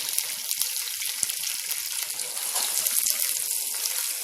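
Green chillies sizzle in hot oil while a tempering cooks for chitranna, a steady crackling fry with scattered pops and spits, close and fairly quiet, with no speech.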